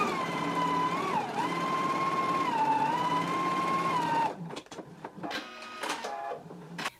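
A sewing machine stitches a shirt side seam with a steady whirring motor hum and slight changes in speed, then stops abruptly, leaving scattered light handling clicks and rustles.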